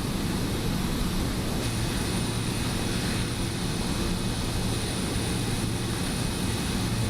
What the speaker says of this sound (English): flying the SimWorksStudios Pilatus PC-12